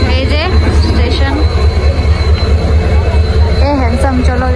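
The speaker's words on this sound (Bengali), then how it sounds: "তাও তোমাদেরকে একটু স্টেশনটা দেখাই। এই যে স্টেশন।" Railway station ambience: a loud, continuous rumble of trains and platform noise, with people talking close by throughout.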